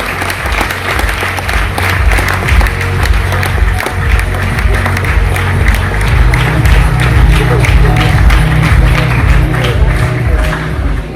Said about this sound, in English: Let's welcome the little one with a loud round of applause.